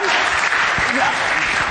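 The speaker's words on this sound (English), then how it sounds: "Well, you can applaud on that" Applause from a seated audience at a Toronto recovery-meeting talk rises as a brief, dense burst of clapping, loud and close, with a voice speaking faintly underneath.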